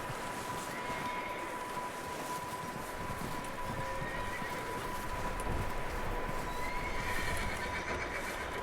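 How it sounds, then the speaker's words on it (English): A horse in Red Dead Redemption 2 neighs amid a dense game soundscape, with steady hoofbeats and outdoor ambience running beneath it and no talk. "I hear a horsey."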